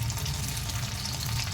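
Halved potatoes frying in hot oil in a pan for restaurant-style dum aloo, giving a steady, continuous close sizzling hiss with no pauses and no voices.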